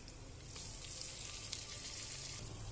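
Ground spices, ginger-garlic paste and chili powder frying in a pan for fish curry, a steady close sizzle with faint stirring scrapes.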